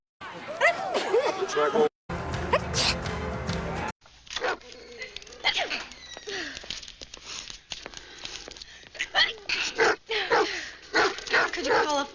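Several small dogs bark, yip and whimper indoors, in repeated close bursts mixed with people talking over them.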